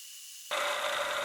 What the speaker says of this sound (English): The first thing I needed to do was sand the end of the wood shaft down a little bit more